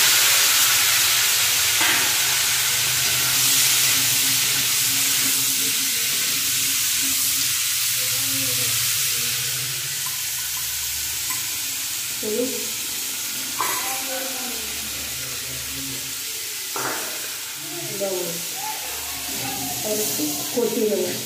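Prawns and cucumber fry in a pan with black cumin for a village-style curry, giving a steady loud hiss and sizzle throughout, with occasional clinks and stirring and a voice speaking over it.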